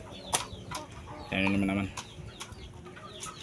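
Chickens at feeding time cluck and squawk in short bursts amid scattered pecking and rustling close by, while someone speaks briefly.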